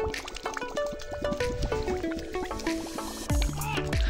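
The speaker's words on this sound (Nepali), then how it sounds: "आयो पानी आयो" Water runs from a pipe into a container, a close gurgling, splashing pour with bubbly, shifting pitches as the vessel fills.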